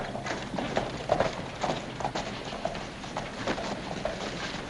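Horse hooves clip-clop in a steady, even walking rhythm, close and fairly clear, with no talking over them.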